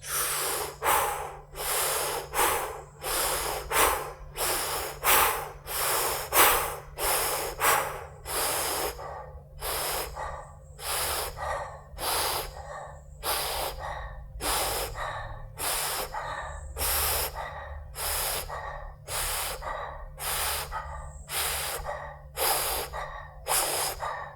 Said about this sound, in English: Firstly, with the 30-40 breaths.